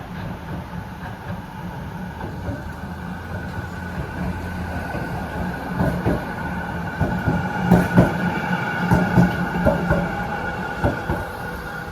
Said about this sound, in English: So now there's a tram ahead to West